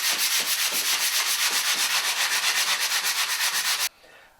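Rhythmic back-and-forth sanding of a drywall joint-compound patch over paper tape on a doorknob hole, loud and close, with steady rasping strokes that stop abruptly near the end.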